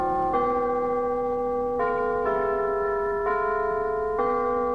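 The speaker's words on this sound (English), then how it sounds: "That is the sound of the old Durfee bells." The old Durfee school tower bells ring out in a slow sequence of five strikes, each tone sustaining and overlapping the next, resonant and fairly close.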